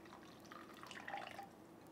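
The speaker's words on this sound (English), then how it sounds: "I'm gonna take this water and pour it so the water's just above the nuts" Water poured over soaked macadamia nuts in a container, a faint, soft trickle and splash that swells briefly mid-pour, with no one talking.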